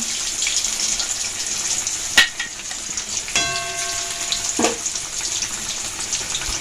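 Shrimp paste mixed with green chilli, turmeric and salt frying in hot oil, a steady close sizzle with a couple of sharp utensil clinks and a brief scraping stir.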